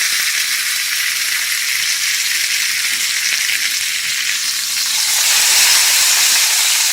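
Meat browning in a hot pan gives a loud, steady broadband sizzle that swells slightly louder near the end, with no voices.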